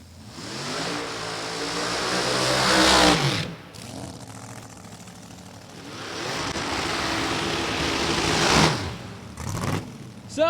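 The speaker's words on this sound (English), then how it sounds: "it's time to make some noise once again in top dragster qualifying" A supercharged Chevrolet top dragster revs hard during drag racing qualifying, with a loud, sustained engine roar that rises and cuts out, then a second long roar, followed by brief engine bursts.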